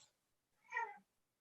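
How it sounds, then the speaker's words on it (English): A cat gives a single short meow, soft and fairly close, surrounded by near silence. "Oh, he just meowed."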